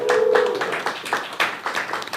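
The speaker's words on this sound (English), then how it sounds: "Can you give this man a big round of applause for his first time hosting here at CFTA?" Scattered claps and light applause from a small open mic standup comedy audience greeting host Omar Hassan, uneven and fairly close, with no talking.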